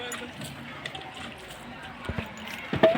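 Saffron-coloured kesari water is poured into a large batch of vegetable biryani rice for 400 people in a school kitchen: a soft, steady liquid wash under background voices and clatter, ending in a louder splash.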